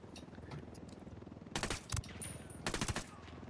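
Suppressed gunfire in the video game Ghost Recon Wildlands, two quick bursts of rapid muffled shots over a low steady background.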